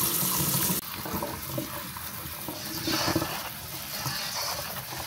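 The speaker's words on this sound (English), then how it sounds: "I'm gonna pull off the stems and I'm gonna give them a good rinse and a good washing" Tap water running over tomatoes in a bowl for rinsing, a steady close splashing flow that shifts in tone as the produce is moved under the stream.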